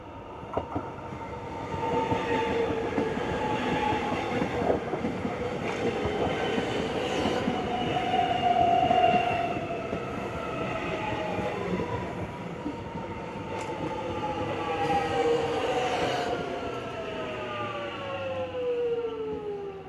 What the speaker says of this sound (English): Okay, off goes that train.